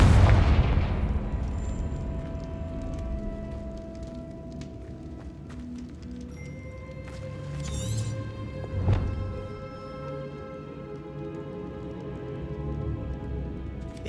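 Confringo fire spell in Hogwarts Legacy: a loud opening blast that decays into a lingering rumble, with a sharper secondary crack partway through and ringing tonal game effects.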